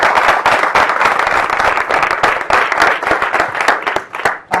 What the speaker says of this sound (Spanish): dadle por favor un aplauso